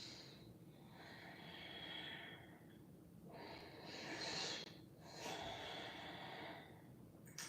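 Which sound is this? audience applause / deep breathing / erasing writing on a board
deep breathing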